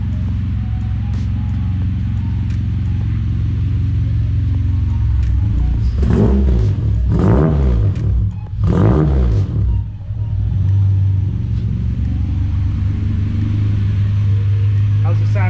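A Honda EG car engine idles with a steady low rumble and throaty exhaust, then revs up in three distinct rising bursts midway before settling back to idle, heard close up.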